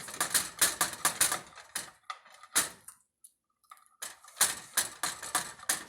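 Knife sawing through a very crispy frozen pizza, a run of loud, sharp crunching cracks in quick bursts, a brief pause midway, then more hard crunches close up.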